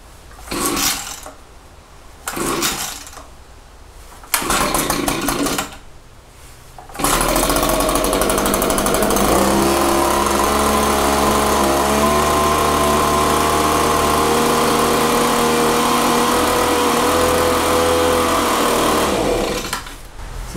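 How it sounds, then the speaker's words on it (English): A gas leaf blower is pull-started: three or four short rope-pull bursts sputter, then the engine catches and runs steadily and loudly at close range for about twelve seconds before dropping off. "That's how you start the blower."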